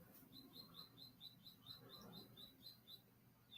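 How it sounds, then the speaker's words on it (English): Birds chirp outdoors in a quick, evenly spaced series of high, thin tweets, about a dozen calls over a few seconds, faint and somewhat distant against a quiet background. "Do you guys hear these birds outside acting up?"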